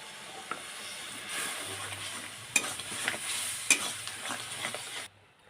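Raw jujube pickle fries in a pan while being stirred, giving a steady sizzling hiss broken by a few sharp scrapes of the spoon against the pan before the sound cuts off.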